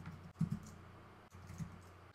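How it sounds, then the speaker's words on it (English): Keystrokes on a computer keyboard while entering text into title boxes in Final Cut Pro X, a few soft clicks in short bursts, quiet and close, with no talking. "So we can type in some different text here"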